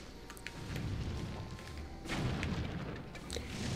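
Bomb blasts in Zelda: The Wind Waker, breaking wooden boards that block a path: dull booming thuds over a continuous rumbling game background, with a heavier burst midway.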